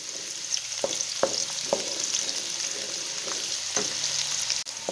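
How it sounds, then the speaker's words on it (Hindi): Two medium chopped onions sizzling in hot oil in a pan, a steady bright fry with several sharp crackles and stirring knocks, close and alone with no talk. "ऑयल हमारा गर्म हो चुका है, तो सबसे पहले मैं यहाँ पे दरमियाने साइज़ के 2 अदद प्याज मैंने काट लिए, ये डालूंगी।"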